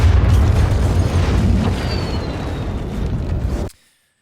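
A loud explosion sound effect rumbles with heavy low-end boom and crackling debris, sustained for over three seconds before cutting off abruptly into silence.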